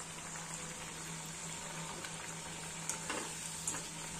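Kothimbir vadi, coriander fritters, shallow frying in hot oil, giving a steady close sizzle with continuous bubbling and a few faint pops and stirring clatters near the end.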